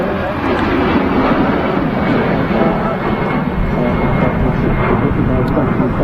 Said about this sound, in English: Where's that BA Embraer off to?